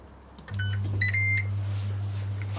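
A Ninja air fryer being set to 230 degrees for 5 minutes, giving a few short electronic beeps over a steady low fan hum.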